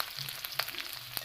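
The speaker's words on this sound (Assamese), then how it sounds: "এতিয়া এখন কেৰাহীত সৰিয়হৰ তেল ভালদৰে গৰম কৰি দি দিছোঁ মই কাটি থোৱা পিঁয়াজখিনি" Chopped onions sizzle in hot mustard oil in a wok, a brief close, steady hiss dotted with small crackles and pops.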